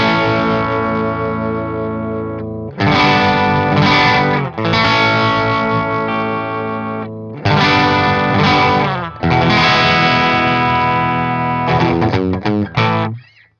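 A Chapman Ghostfret Pro electric guitar on its hot bridge pickup plays loud, heavily distorted chords through a Fender Deluxe Reverb amp, in several sustained bursts with short gaps between them.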